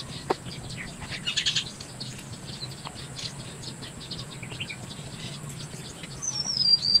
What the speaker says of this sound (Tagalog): tanging mga huni lang ng ibon yung mga maririnig mo